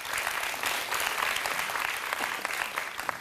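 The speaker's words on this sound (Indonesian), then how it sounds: "tepuk tangan Prof Bagir" Audience at a press and government forum giving a steady round of applause for a professor, dense continuous clapping at moderate distance with no talk.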